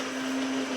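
An Almond Cow oat milk maker whirs at a steady pitch, its motor drone holding a constant tone for under a second with no talking.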